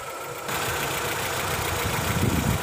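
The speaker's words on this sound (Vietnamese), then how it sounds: "máy chạy rất là êm" Petrol engine of a 2008 Chevrolet Vivant idling smoothly in an open engine bay, a steady close mid-pitched hum that starts after a short quieter moment.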